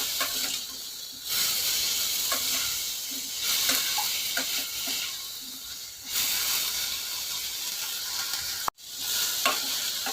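Brinjal and drumsticks frying in a pan make a loud, continuous sizzle that swells and fades in waves, with brief stirring clatters and a short sharp break near the end.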